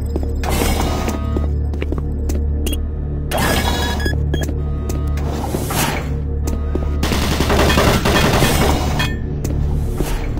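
Automated turret guns fire in the video game Doom 3: rapid, loud bursts of machine-gun fire repeat across ten seconds over a steady low mechanical hum, with brief pauses between volleys.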